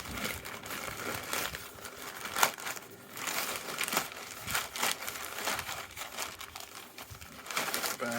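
Plastic bag crinkling and rustling while an MN111 RC car is unboxed, close and fairly quiet, with irregular bursts of crackling handling noise throughout.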